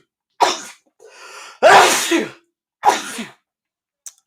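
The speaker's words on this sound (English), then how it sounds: "I'm about to sneeze" Three sharp, loud sneezes in a row, close up, each a burst of breath with brief gaps between, followed by a faint click at the end.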